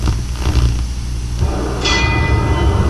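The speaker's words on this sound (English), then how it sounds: "Now the bell for round 6." Boxing ring bell marking the start of round 6 in the 1969 Joe Frazier vs Jerry Quarry heavyweight fight, ringing out in a bright sustained tone over loud arena crowd noise.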